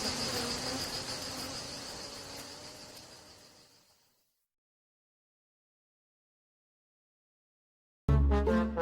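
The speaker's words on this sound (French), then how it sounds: "des abeilles s'apprêtaient à quitter leur ruche en bourdonnant" Bees buzz as they leave their hive in a dense, droning hum that fades out over about four seconds, followed by silence, then music suddenly begins.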